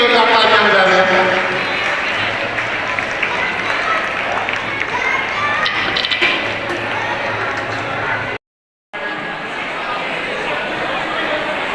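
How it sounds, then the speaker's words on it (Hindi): A crowd of students and guests at a school annual function and prize distribution claps loudly and continuously, with voices and chatter mixed in and a brief dropout before the applause resumes. "अपने लिए भी जोरदार तालियां बजा रहे हैं"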